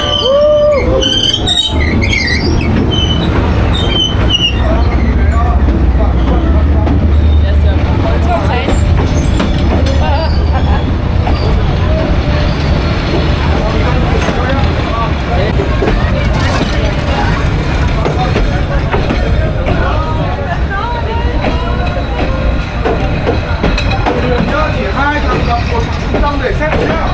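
A train rolls slowly and loudly through Hanoi Train Street, a narrow lane between houses, with a deep steady rumble, rattling cars and faint wheel squeal, and people's voices around it throughout.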